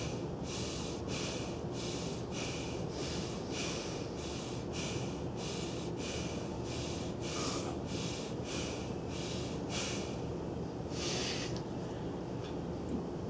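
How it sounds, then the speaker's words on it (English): Small breathing exercise of rapid, regular nasal inhales and exhales, a steady train of about a dozen short sniffing pulses evenly spaced over a constant low background noise, with no talk. "In small breathing, we have to inhale and we have to exhale, but the force is less."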